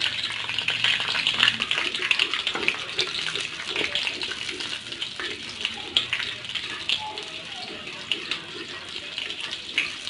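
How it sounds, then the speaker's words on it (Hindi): Butter melts in a karahi while being stirred, producing a continuous close sizzle with soft scraping strokes throughout. "मैंने सबसे पहले कढ़ाई के अंदर मक्खन डाल दिया है और इसको बहुत ही अच्छे तरीके से मेल्ट कर लेंगे, हिला हिला के ऐसे साथ ही"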